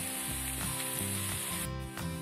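Chopped onion sizzling in about a tablespoon of vegetable oil in a pan with mushrooms, a steady close frying hiss with faint soft stirring bumps throughout.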